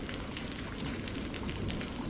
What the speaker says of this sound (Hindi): ओहो कितनी तेज बारिश है